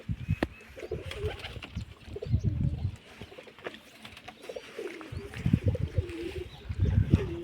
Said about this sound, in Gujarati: અંદર આપણા અંદર કબૂતરા ઘૂકવા માંડ્યા છે.